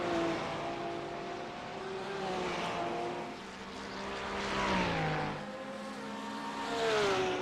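GT3 race cars roar through the tight corners of a Detroit street circuit, engines rising and falling in pitch as they brake and accelerate, several cars passing in succession under a steady, moderately distant drone.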